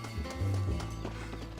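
Horse hooves clip-clop in quick galloping beats in Red Dead Redemption, quiet and muffled under a low game soundscape, with no talking.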